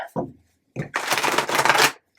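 A deck of cards being shuffled up close: two short riffles, then a longer, crisp flurry of cards fluttering together before stopping.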